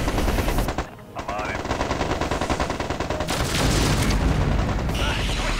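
A mech explodes in the video game MechCommander 2 amid dense, loud rapid gunfire, with heavy booms rumbling almost without pause after a brief dip.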